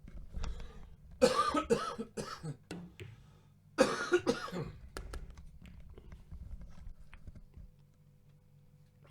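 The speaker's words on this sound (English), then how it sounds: "I'm going to have another cough here" A few loud, harsh coughs burst out near the start and again midway, with quieter noises and a low hum filling the gaps.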